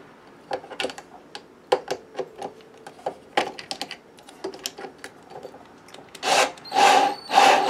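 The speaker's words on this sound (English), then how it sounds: "drilling out this hole with the" Short bursts of clicking and rattling taps scattered across several seconds, then a few louder sustained mechanical whirs near the end as a drill drives a self-tapping screw to drill out a hole in a miter saw.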